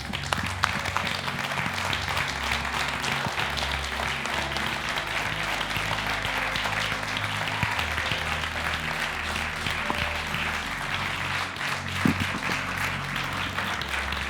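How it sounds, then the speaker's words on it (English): A church congregation claps in praise, a sustained, even wash of applause from many hands that holds steady throughout with a low hum beneath it. "I think we have to give Jesus a wonderful hand clap of praise."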